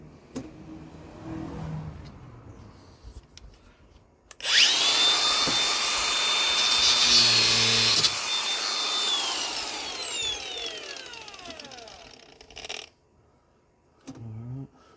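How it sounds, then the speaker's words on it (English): An angle grinder cuts through heavy steel, a loud, harsh, sustained shriek that starts abruptly, holds for several seconds and then winds down with a falling whine, followed by quieter workshop noise. "there's my angle grinder"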